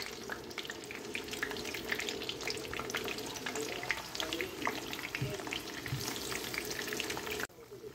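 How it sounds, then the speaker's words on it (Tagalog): Bananas frying in hot cooking oil for Filipino banana cue, a steady dense sizzle with faint stirring and watery crackle running continuously at close range, cutting off near the end. "Nilagay na natin lahat ang banana, kaya atin na siyang ipa-fry sa mantika"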